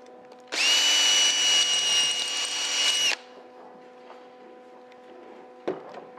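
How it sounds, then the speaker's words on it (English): A power drill drilling out a rivet whines loudly at a steady high pitch for a few seconds, then stops, leaving a low hum and a short clunk. "Still need to drill that one out a little better."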